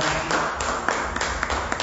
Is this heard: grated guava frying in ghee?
no